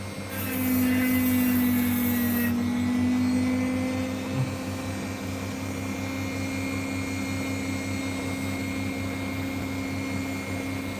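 A rotary tool carves an opal stone at an angle, giving off a steady motor whine and grinding buzz close by, with a bright extra squeal for the first few seconds before the tone settles and continues evenly.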